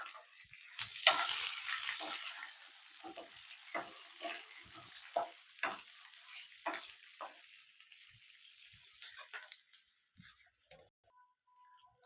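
Green chilli pieces sizzle and fry in a pan for gongura chutney, a steady hiss with crackling pops and occasional stirring scrapes that is loudest early on and fades toward the end.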